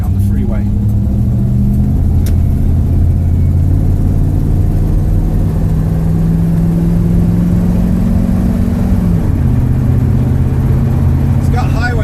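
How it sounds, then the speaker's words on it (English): A 1973 Ford Maverick restomod with a fuel-injected 302 V8 accelerates onto a freeway, its deep engine drone rising steadily in pitch under loud road and cabin rumble, heard from inside the car. "We can give it some gas, get it on the freeway."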